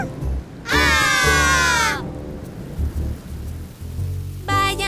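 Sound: thunder and rain in a cartoon

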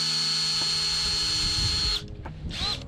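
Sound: power drill drilling a plastic Fanta bottle

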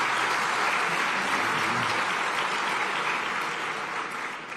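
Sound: audience applause at press conference

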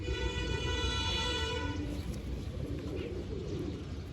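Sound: pigeons cooing

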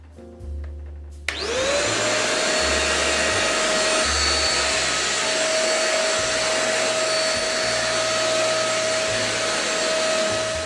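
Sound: cyclonic vacuum cleaner running

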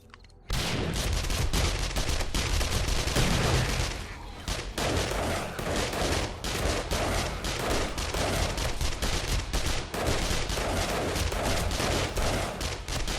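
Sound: gunfire in a video game

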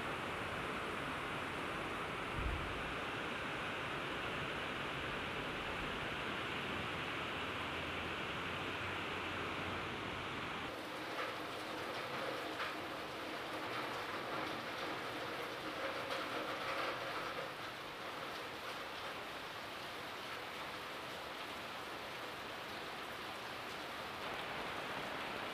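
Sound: heavy rain falling

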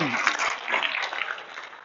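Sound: audience applause for a participant

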